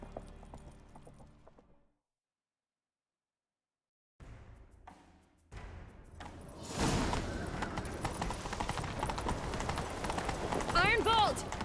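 Horse hooves clip-clop and gallop in The Witcher 3: Wild Hunt, starting after a silent gap and building into a loud, busy stretch of riding with game effects and voices around it.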